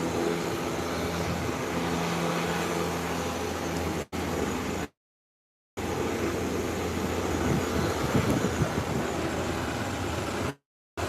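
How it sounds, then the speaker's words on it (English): A Cessna 402 twin-engine plane takes off from a taxiway: a steady, broad engine drone and wind-like roar that builds slightly louder later, with two brief dropouts, and no talking. "The 402 will be taking off from this taxiway just in front of us."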